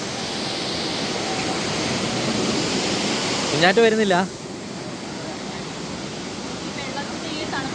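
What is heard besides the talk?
large waterfall near Munnar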